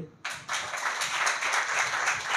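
A church congregation claps together in sustained applause for faithful attendees, a dense, steady patter of many hands that starts abruptly and keeps going at an even level throughout.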